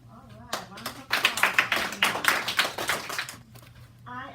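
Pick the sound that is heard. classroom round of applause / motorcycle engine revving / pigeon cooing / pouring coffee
classroom round of applause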